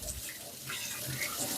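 Tap water runs steadily into a kitchen sink as pastry is rinsed off hands while making a chicken, bacon and leek pie, a close continuous splashing stream without talk.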